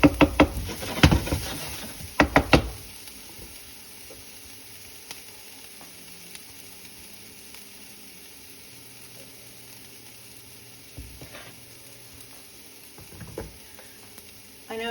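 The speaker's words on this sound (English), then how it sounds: "Saute that onion for a few minutes here." Onion sautéing in a pan for refried beans, a soft steady sizzle running through the whole stretch, with a few louder clanks and stirring knocks near the start and a couple more late on.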